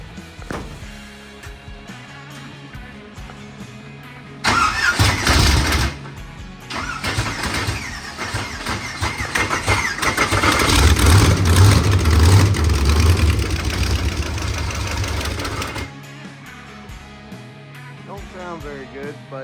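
A car engine being fired up after its power is switched on, bursting in loud and then running rough and uneven at close range for several seconds before cutting off, with people talking before and after.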